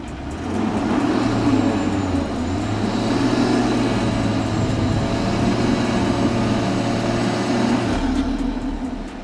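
A BMW X6 SUV in Sport Plus mode strains off-road. Its engine gives a loud, steady, close droning roar that holds evenly for the whole stretch, with no talk.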